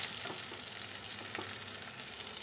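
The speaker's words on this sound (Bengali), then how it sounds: "এবার বেগুনগুলোকে একটু ভালো করে নেড়ে নেবো" Eggplant pieces frying in hot oil while being stirred, a close, continuous crackling sizzle with soft scraping stirs, no talking.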